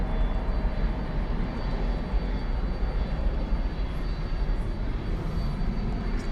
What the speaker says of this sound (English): Got a mainline jet arriving here from Santa Ana, California, MAX 8.